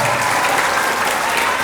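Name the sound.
audience applause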